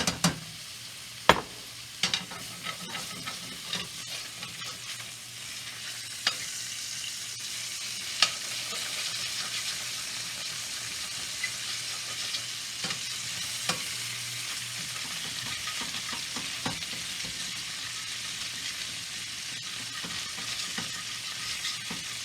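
Zrazy rolled beef sizzles steadily in fat in a pan, with occasional sharp pops and clicks over a constant frying hiss and no voices.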